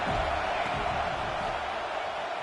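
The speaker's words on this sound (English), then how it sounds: "This crowd bringing the energy and noise early." A football game crowd roars with a dense, continuous wash of cheering and noise, fairly loud and steady throughout without clear speech.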